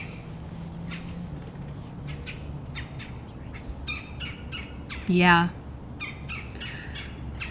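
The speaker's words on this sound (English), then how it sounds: "This is mating season for birds," Wild birds call during mating season, short scattered chirps and squawks over a steady outdoor hum, with one louder, rising squawk near the end and a brief word spoken.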